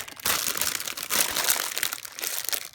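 A gift bag crinkles and rustles steadily up close as handmade cards and envelopes are slipped inside, with bursts of crisp paper noise and no speech.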